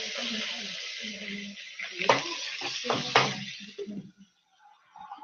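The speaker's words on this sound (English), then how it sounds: "Y'all see them all nice and brown and sizzling?" Hot sizzling and crackling of browning potatoes in a frying pan, with scraping and stirring noises throughout and a brief quiet near the end.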